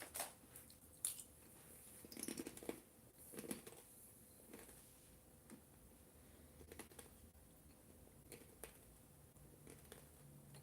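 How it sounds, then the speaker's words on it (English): Plantain chips being chewed close up, giving soft irregular crunchy bites in a cluster over the first few seconds and then fainter sporadic chewing against a quiet background. "I'm chewing plantain chips."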